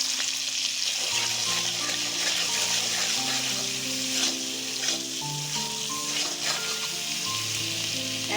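Chili paste fries in a pan with a loud, continuous sizzle and stirring, close up, while a steady tonal hum of shifting pitches runs underneath.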